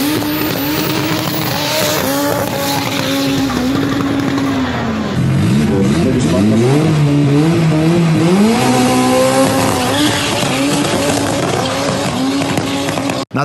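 A 1400 hp VR6 turbo car accelerates hard during testing, its engine loud and continuous with rising and falling revs through gear changes, plus a brief tire squeal, up close with no talking.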